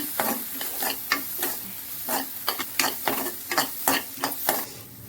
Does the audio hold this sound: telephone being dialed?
no